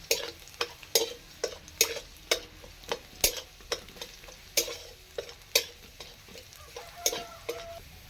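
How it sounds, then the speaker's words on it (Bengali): Garlic fries in white cooking oil under a soft sizzle while a spatula scrapes and stirs the pan in regular strokes, roughly one or two per second, with no voices. "পুরো রান্নাটাই আমি সাদা তেলে করবো এটা লাল লাল করে ভেজে নিতে হবে"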